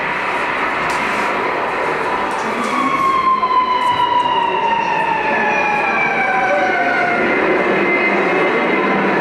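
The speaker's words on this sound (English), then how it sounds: "Sounds of the city." City street ambience with a loud wailing siren sweeping overhead and a train rumbling along, a continuous dense roar of traffic throughout.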